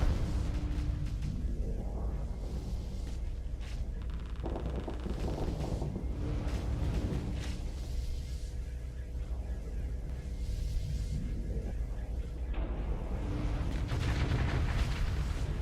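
Torpedo blasts batter a ship in Starsector space combat, a run of deep booming explosions and rumbling impacts that swell and overlap in a loud, continuous barrage.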